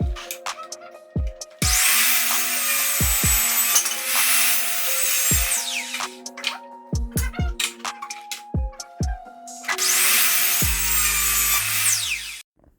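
Hand sawing tenons in recycled timber, with bursts of sawing separated by knocks and tool handling, followed by a second stretch of steady cutting close by. There is no speech.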